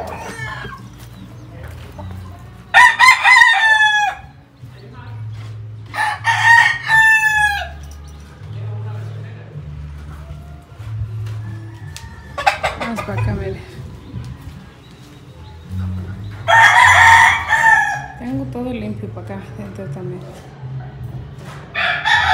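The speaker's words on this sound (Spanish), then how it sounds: "Ahí están las gallinas, miren" Chickens cluck steadily nearby while a rooster crows loudly several times, with people talking in the background.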